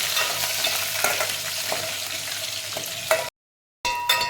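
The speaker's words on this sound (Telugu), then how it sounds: "దంచి పెట్టుకున్న వెల్లుల్లి, ఒక 2 వట్టిమిరపకాయలు, కొద్దిగా కరివేపాకు వేసుకొని దీన్ని బాగా తిరువాత బాగా వేగనిద్దాం." Crushed garlic, two dry red chillies and curry leaves fry in hot oil for a raw mango dal, giving a close, busy sizzle with stirring scrapes. A brief silent break interrupts it before the sizzle resumes.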